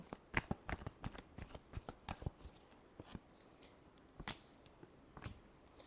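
Tarot cards are shuffled by hand in a series of crisp, papery riffles and taps, close and fairly quiet, coming in quick irregular bursts with brief pauses between them.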